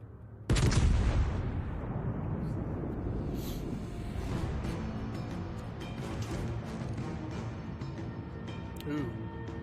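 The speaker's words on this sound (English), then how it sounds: "King George firing high explosive" High-explosive shells fired from the British battleship King George in the naval game World of Warships Legends: one heavy, booming salvo followed by sustained rumbling and distant thuds, with a voice talking over it.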